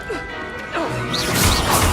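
A Confringo fire spell blast from Hogwarts Legacy strikes with a brief, sharp crash, followed by a rushing burst and scattered game effects, heard close and moderately loud under light background sound.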